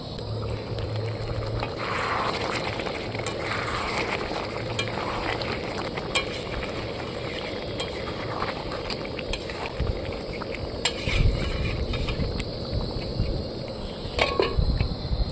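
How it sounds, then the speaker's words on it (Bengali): Saffron rose chicken made with cashew paste, cooked outdoors in a pan with the lid just taken off: steady close sizzling and frying with repeated scraping and stirring strokes of a spoon against the pan, plus occasional sharper metallic clinks. "এখন ঢাকনাটা খুলে একটু নেড়ে দেবো।"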